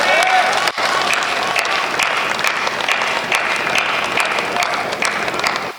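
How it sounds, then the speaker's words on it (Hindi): Audience at a Hindi kavi sammelan poetry recital breaking into sustained applause, loud dense clapping with crowd noise running throughout, with a brief dip early on. "आपने तालियां शायद इसलिए बजाई हैं"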